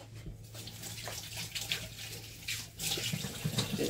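Water runs steadily from a kitchen tap while hands are washed during cooking, a continuous broadband splashing stream close by with small fluctuations as the hands move under it, and no talking.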